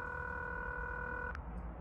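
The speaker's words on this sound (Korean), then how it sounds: "형배씨한테 전화해보죠" A telephone dial or ringing tone in a Korean horror adventure game, a steady electronic tone held for over a second and then cut off, followed by faint background hiss.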